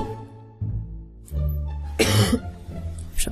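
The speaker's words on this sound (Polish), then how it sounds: "ale mam lekki kaszel." A few short coughs from a person, close and fairly loud, a burst of harsh noise followed by smaller catches, over quiet background hum, with no talk.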